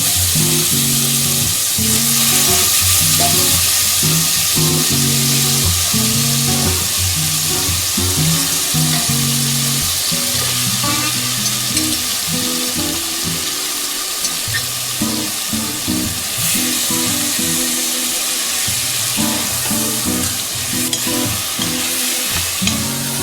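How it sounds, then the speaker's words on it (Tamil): Marinated chicken hits a hot pan for spicy chicken thokku, sizzling loudly and continuously while a utensil stirs and scrapes in an uneven rhythm, close up, with no talking. "கலந்து வச்சிருந்த சிக்கனை இப்ப இதுல போட்டுக்கலாம்."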